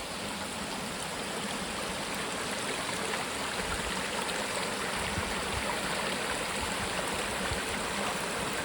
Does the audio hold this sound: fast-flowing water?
yes